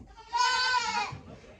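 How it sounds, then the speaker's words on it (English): A fainting goat on a farm lets out a single loud, close, wavering bleat lasting under a second, with quiet barnyard noise around it. "So we raise fainting goats."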